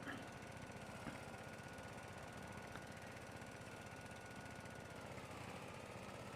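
Tractor engine in the video game Farming Simulator 22, stuck in gear: a steady, loud, rumbling drone that holds at the same level throughout, heard alone without talk.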